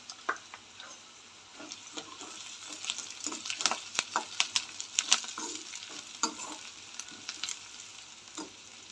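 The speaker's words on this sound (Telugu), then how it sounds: "ఆనియన్ బాగా ఫ్రై అవ్వాలి" Onion with green chillies frying on low heat in a pan for egg fried rice, a steady soft sizzle broken by a run of sharp spatula scrapes and ticks, close and moderately quiet, with no voices.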